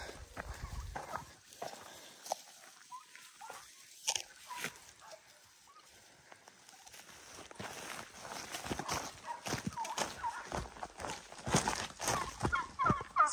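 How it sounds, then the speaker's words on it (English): Farm turkeys being herded on an evening drive down a hill past a Douglas fir, a busy mix of gobbles, clucks and rustling footsteps, near and uneven, growing livelier toward the end. "Silly turkeys."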